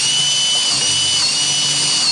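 A power drill with a 1/2 inch bit bores through the wood of a clamped porch swing, a steady, loud whine running unbroken throughout.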